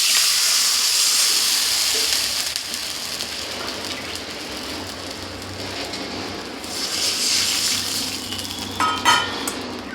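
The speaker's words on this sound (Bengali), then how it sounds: "এবার জল দিয়ে দেব।" Water poured onto tomatoes frying in hot oil sets off a loud, steady sizzle and steamy hiss that eases slightly before flaring again, with a few pan clinks near the end.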